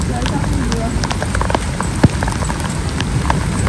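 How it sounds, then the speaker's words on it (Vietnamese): Steady rain patters densely on leaves and surfaces in a rural vegetable garden, with individual drops ticking close by and one sharper knock partway through, all under a continuous wash of rainfall. "Ôi, mưa."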